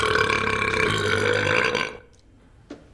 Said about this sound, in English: fakest burp sound effect I've ever heard in my life